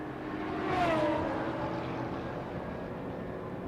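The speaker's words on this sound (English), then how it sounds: "And I'm hearing a car into the pits." A GT racing car drives into the pit lane at the Barcelona circuit, its engine note swelling briefly then settling into a steady mid-distance drone, with no talk over it.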